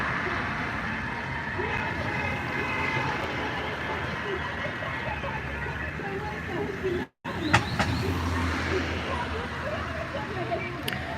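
Cars and other vehicles rumble past on a busy London street while a police officer directs traffic. The traffic noise is steady and fairly close, with people talking over it.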